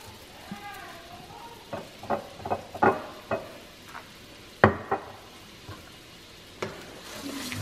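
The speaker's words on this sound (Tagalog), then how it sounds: "Haluin lang natin yan." Sweet and sour spicy fish frying in a pan is stirred, a soft sizzle underneath as a utensil scrapes and clinks against the pan in a series of sharp, irregular knocks.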